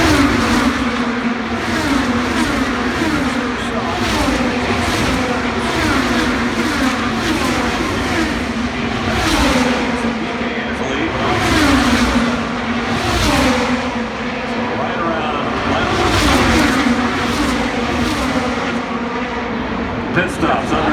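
IndyCar race cars at the Indianapolis 500 roar past in repeated waves, engines loud and continuous with rising and falling passes, while a commentator talks over the track noise throughout.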